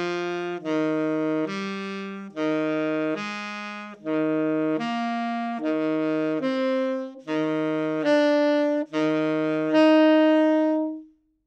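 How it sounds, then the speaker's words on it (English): Expanding diatonic intervals on a melodic instrument, played upward from the root to the perfect octave, with a low root note alternating with a rising upper note in about eleven clear, sustained, separate tones at close range. "I'll start at the root and build the intervals expanding as I go all the way up to the perfect octave."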